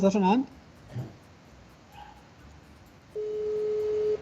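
A single steady telephone ring tone sounds near the end, a flat sustained beep following a brief voice and quiet line noise.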